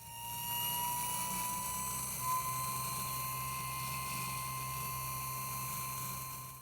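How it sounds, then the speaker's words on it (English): Electric motor of a homemade 2x72 belt grinder running at full speed on a bench, a smooth steady whine with stable tones and a low hum that hold level throughout, with no vibration or changes in pitch. "The motor is incredibly smooth with no vibration whatsoever, even at full speed"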